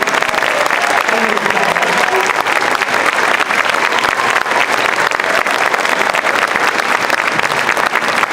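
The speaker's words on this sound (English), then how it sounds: "how about another round of applause for the 5th grade band?" Loud, dense applause from a concert audience for a 5th grade school band at an All Town Band performance, a continuous crowd clapping that stays steady throughout.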